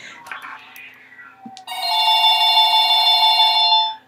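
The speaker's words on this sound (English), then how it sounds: "why does the phone have to ring just when I'm about to go ahead" A telephone rings with a sustained, bright electronic tone that starts partway through and holds loud for about two seconds, after some brief faint sounds and a short voice-like burst.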